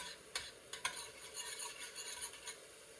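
Oil crackles and sizzles in a hot pan on the stove, with a few sharp utensil scrapes and clinks on the pan breaking through the steady frying hiss as the food is stirred.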